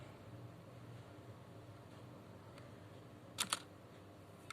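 A computer keyboard key is pressed, giving two quick, faint clicks close together in an otherwise quiet room with a low background hiss.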